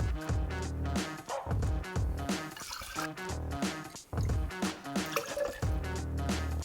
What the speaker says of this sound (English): Next, I add in 3 ounces of orange juice.